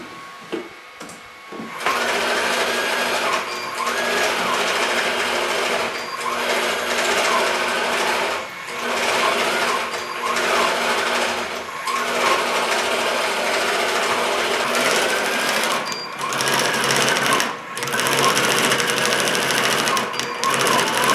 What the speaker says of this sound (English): So I turn the machine on, and then we're ready to go.